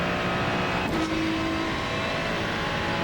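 Car running flat out around the Monza circuit, a sustained loud engine drone at high revs heard from inside, steady with a brief shift of pitch near the start.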